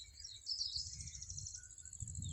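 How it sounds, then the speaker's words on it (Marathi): Birds chirp and twitter outdoors on a cool morning after rain, a thin high trill repeating over a low rumble of background noise, fairly faint and close. "पक्षी कसे किलबिल करतात बघा."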